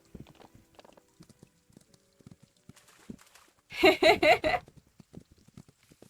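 In the video game Ranch of Rivershine, a quick run of horse hooves clops in a brief rhythmic burst, standing out over faint scattered taps and low background sounds.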